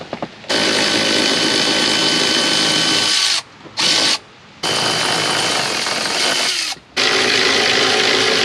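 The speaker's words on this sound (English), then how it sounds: "I have a 10mm for my electric ratchet." An electric ratchet with a 10mm socket works in the engine bay of a Nissan Cefiro, running in three loud, close whirring bursts separated by brief pauses.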